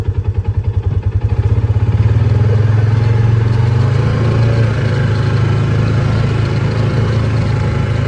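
A Polaris RZR 570 engine idles and then revs steadily as the vehicle is put in gear and backed into a shed, a loud, close, continuous drone with a low, even pulse.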